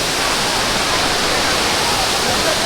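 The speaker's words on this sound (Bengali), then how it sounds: "মানে আমার আওয়াজই শোনা যাবে না, এতটা সুন্দর এই ওয়াটারফলসটা" Changey waterfall in Kolakham, Kalimpong, a dense, steady rushing roar of falling water, loud and close, filling the whole moment without variation.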